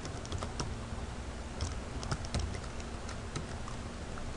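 Close computer keyboard typing while an owner's name goes into TeraCash 2011 setup, scattered clicks and short bursts of keystrokes over a quiet room with faint background hiss.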